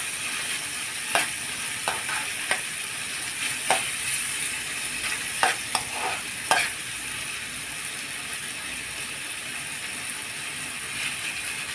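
Shawarma sizzles in a pan with a steady hiss while a utensil scrapes and clacks against the metal in a few sharp strikes as the meat is stirred and turned.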